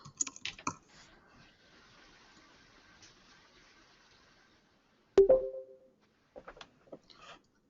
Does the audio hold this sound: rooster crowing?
no